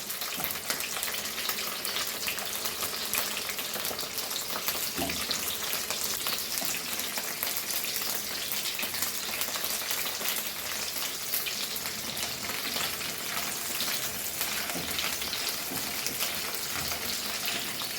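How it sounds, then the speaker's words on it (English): Chopped okra fries in hot oil in a pan over a medium flame, producing a dense, even sizzle that holds steady and close throughout, with no voices. "we will add our bhende and we will fry this"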